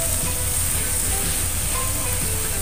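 Sliced Chinese cabbage (sawi putih) is stir-fried in a pan, giving a loud, steady, close sizzle with no speech.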